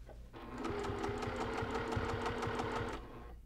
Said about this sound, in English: I'm going to stitch to exactly where I started.